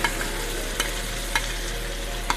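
Onion, garlic and pepper sizzle in two teaspoons of olive oil as the base for Guyanese metemgee soup, a steady close frying hiss broken by a few sharp stirring scrapes.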